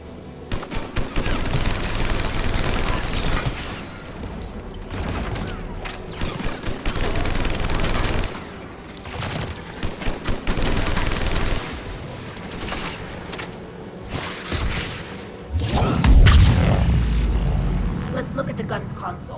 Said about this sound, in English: Geth anti-aircraft guns are up ahead.